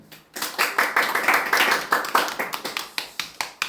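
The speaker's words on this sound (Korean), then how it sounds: "우리 박수로 환영해 주시면 좋겠어요" A small church youth-service congregation claps to welcome returning students, a short round of sharp, distinct handclaps in an uneven rhythm, fairly close and loud in a quiet room.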